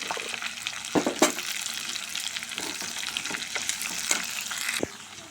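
Chopped onion pieces fry in a pan for a drumstick and dried prawn curry, with a steady close sizzle broken by spatula knocks and scrapes, then a sudden drop near the end.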